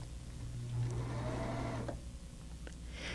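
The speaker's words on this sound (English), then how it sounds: "Serge along the edge, stopping every inch, decreasing the stitch length." A Huskylock 901 serger runs along a fabric edge in a short whirring burst that slows and stops, mechanical hum close and steady, followed by a few small clicks.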